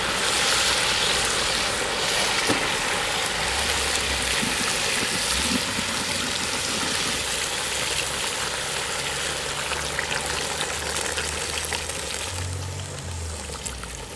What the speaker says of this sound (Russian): Морковка слегка обжарилась, и я выливаю сюда холодную фильтрованную воду.